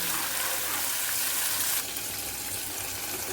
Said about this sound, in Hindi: ढोकला का चूरा डाल रहे हैं हम इसमें